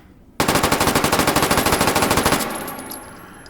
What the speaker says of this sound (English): So that's single fire, now full auto.